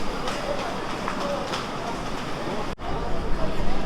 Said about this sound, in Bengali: এই দুর্গাপুর ছেড়ে আমাদের ট্রেন এগিয়ে চলেছে এখন